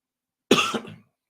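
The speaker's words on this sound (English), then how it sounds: "I've been dealing with a cough" A single harsh cough bursts close and clear after a moment of silence, tailing off quickly with a brief throaty rasp.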